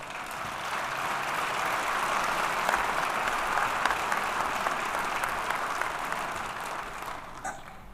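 A crowd at a police department awards ceremony gives officials a sustained round of applause, dense and even for several seconds before tapering slightly. No voices.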